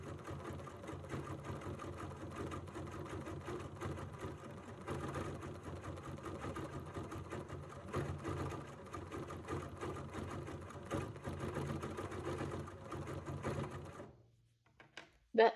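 A sewing machine runs steadily while couching decorative fibers, a continuous close mechanical whir and rapid stitching chatter that carries on for most of the stretch, then stops near the end followed by a brief knock.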